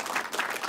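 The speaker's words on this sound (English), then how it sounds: "I'm going to give you some applause." Brief burst of applause sound effect played on a painting livestream, a short, even patter of many hands clapping.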